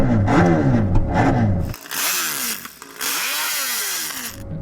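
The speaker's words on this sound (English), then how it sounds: "Danny, let's have a listen to your MotoGP bike" MotoGP racing motorcycle engine revving hard in a loud, raspy burst of rising and falling sweeps, cutting off abruptly, followed by several more sharp high-pitched revs at close range.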